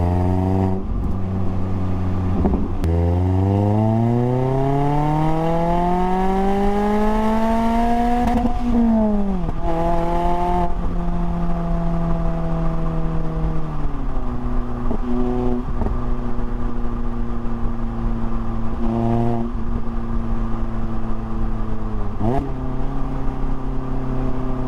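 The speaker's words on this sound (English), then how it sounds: "We also got the little cracks and pops tune added on to this one." A Mazda MX-5 with a VersaTuner tune revs up, its engine note climbing and then falling, while the exhaust gives off mild cracks and pops as it comes off throttle, close and steady throughout.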